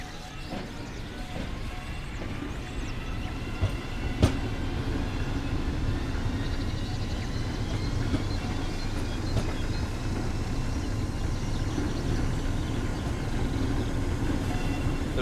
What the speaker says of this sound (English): This train is hauled by an ÖBB 1020, first built in 1940.